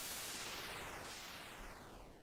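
Chiptune synth notes from the Magical8bitplug2 8-bit plugin sweep from high to low in overlapping waves over a bright hiss of noise, steady and loud throughout.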